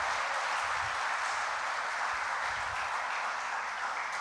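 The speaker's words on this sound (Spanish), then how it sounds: "Dele un aplauso fuerte al Señor." A church congregation applauds, steady wash of clapping heard at a moderate distance, continuous and even with no speech over it.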